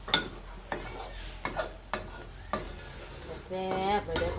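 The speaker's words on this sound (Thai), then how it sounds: "ใส่มะเขือลงไปเลยค่ะ" Eggplant being stirred into a Thai spicy red curry in a pot, with clanks of a utensil against the pot at a steady beat and a soft bubbling sizzle, close and fairly quiet.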